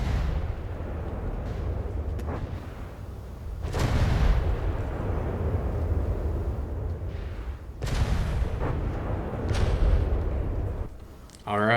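Heavy warship guns boom in a mech-versus-world naval battle game, two big broadband blasts around four and eight seconds over a constant rumble of battle noise, with speech-like sound in the mix.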